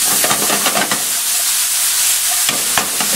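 A beef and vegetable casserole with thyme and other herbs is stirred in a pot, with scraping and sloshing strokes over a hiss of sizzling, several close stirs with a short pause midway.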